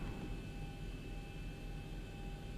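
An aircraft engine in the X-Plane flight simulator runs with a steady, even droning roar and a thin high whine above it. The level holds constant throughout, with no talk.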